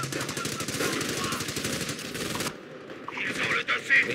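Gunfire in the Company of Heroes video game, with a sniper rifle among the shooters: dense, rapid shots crackle loudly for about two and a half seconds, then give way to quieter battlefield ambience with scattered sharp reports.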